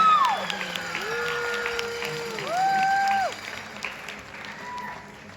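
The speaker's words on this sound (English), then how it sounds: "let's give them a big round of applause" Pageant audience at the Miss Universe Canada 2026 finals applauds contestants, a steady wash of clapping and crowd noise with rising and falling whistle-like tones and voices mixed in, fading slightly toward the end.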